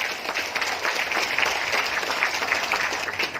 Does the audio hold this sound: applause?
yes